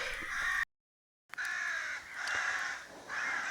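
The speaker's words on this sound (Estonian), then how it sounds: "Loodame, et seda varese häält pole nüüd nii palju sinna video taustaks" Crows cawing outdoors at a campsite, a series of harsh repeated caws in short bursts, fairly distant and moderately faint, broken by a brief gap.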